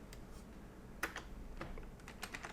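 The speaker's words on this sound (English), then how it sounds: "I'm going to type in my name" Keystrokes tapped on a computer keyboard while entering a name into PowerPoint slides, several quiet irregular clicks in short bursts over a low background hiss.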